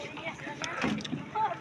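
A boat on the Padma river at Mirpur, Kushtia carries a steady wash of wind and water noise with faint engine-like rumble, the sound fairly close and continuous.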